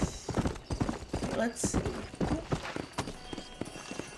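Horse hooves clip-clop at a steady riding pace in Red Dead Redemption, a rhythmic, fairly close patter running under a player's talk throughout.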